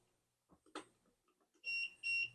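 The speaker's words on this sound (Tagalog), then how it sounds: "Nag-a-alarm siya kapag hindi identified yung RFID card na ginamit." Arduino Uno RFID home automation alarm sounding for an unidentified card: two loud, steady electronic beeps in a row, each about a third of a second, after some faint handling clicks.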